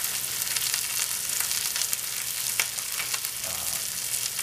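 Meat browning in a pan for pot roast, a steady close sizzle with soft crackling pops, continuous and undisturbed by any voices.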